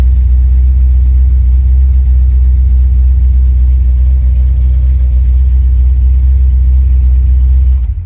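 The engine of a 1978 Pontiac Firebird Trans Am with Sniper fuel injection runs steadily, a loud, deep, close rumble that holds even throughout and drops off right at the end as it is shut down.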